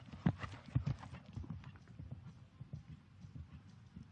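Hooves of a Dutch warmblood horse clip-clopping in a dressage arena at an eventing world championship, a steady rhythmic beat of close footfalls with faint commentary talk underneath.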